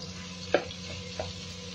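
Minced meat frying over browned onions in hot oil makes a soft, steady sizzle close by, broken by two brief scraping clinks of a spatula.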